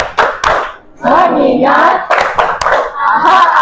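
A classroom of students performs a rhythmic focus clap, sharp sets of loud, close hand claps in a patterned beat alternating with the group chanting along.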